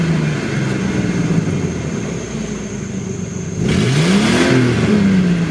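A 1998 Ford Explorer with the 4.0 V6 revs from outside the cab, a steady idle rumble suddenly rising into a loud sweeping climb and falling back down, fairly close.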